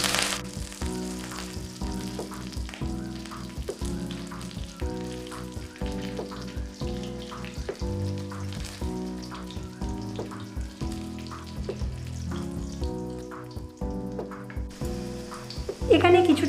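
Ginger, green chili and curry leaves sizzle steadily in hot oil while being stirred, with repeated spoon scrapes against the pan in a fairly regular rhythm and no talking.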